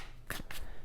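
Two quick riffles of a tarot deck being shuffled, crisp papery bursts close up, one right after the other, in an otherwise quiet room.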